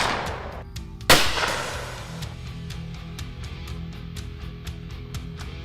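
A single loud shotgun blast cracks out nearby and rings off into a fading echo, followed by faint clicking and handling noises.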